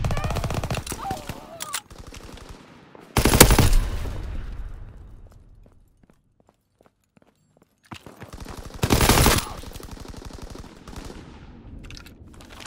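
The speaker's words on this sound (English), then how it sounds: "Sie feuern auf mich!" Call of Duty WWII gunfire: rapid automatic bursts rattle close and loud, with two heavy sustained volleys, scattered single shots and a quiet lull between them.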